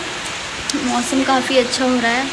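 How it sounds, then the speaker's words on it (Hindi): Steady rain that has picked up from a light drizzle hisses continuously in the background while a person talks over it. "यहाँ पर आज सुबह से बारिश हो रही है, बहुत हल्की हल्की हो रही थी लेकिन अब थोड़ी सी तेज़ हो गई है।"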